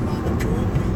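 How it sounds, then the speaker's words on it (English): A Porsche passes on a road in wet weather, a steady broad rush of tyre and engine noise, fairly close and continuous. "Here comes a guy in a Porsche."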